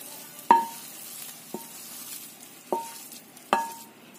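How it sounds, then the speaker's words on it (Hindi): A spatula scrapes and taps as cooked carrot mixture for barfi is spooned into a ghee-greased tray, four sharp metallic clinks spaced about a second apart over quiet background. "ट्रे में हम ये गाजर को डाल देंगे।"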